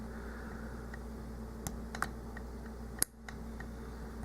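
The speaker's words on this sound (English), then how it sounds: "I think pin 1 just gave me another click." A Master Lock Pro Series 6835 padlock clicks faintly during lock picking: a handful of small, separate metallic ticks from the pins over a quiet hiss, with one sharper click near the end.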